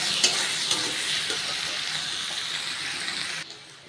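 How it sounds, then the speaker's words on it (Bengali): Spice masala with tomato frying in a pan, giving a steady, close sizzle with the scrape of stirring throughout and no voices. "এবার এটা পুরো ভেজে নেব ভেজে মিক্সিতে আমি পেস্ট করব"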